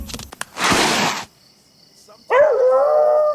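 A dog in a SWERY video game gives a sharp burst of noise, falls quiet, then lets out a loud sustained howl that bends in pitch.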